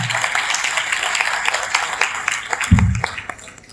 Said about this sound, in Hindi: तालियां अपने आप बज रही हैं